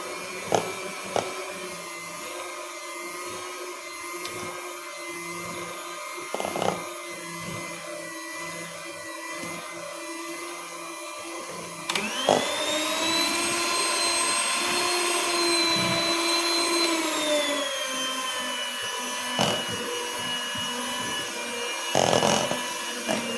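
Electric hand mixer beating steamed sponge cake batter on low speed, a steady whirring hum that starts midway and runs continuously with faint scraping against the bowl, alone without talk.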